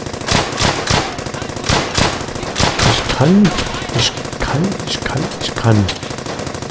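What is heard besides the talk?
gunfire in the video game Brothers in Arms: Hell's Highway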